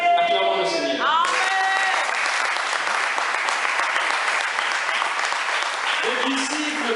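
A church congregation at a Sunday pastor's ordination service bursts into loud, sustained applause lasting several seconds. A voice speaks just before it begins, and again as it fades.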